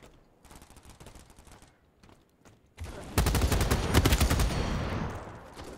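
Rapid gunfire in BattleBit, a video game, starting as quieter scattered shots, then turning into a loud, close burst of fast automatic fire that rattles on for a few seconds.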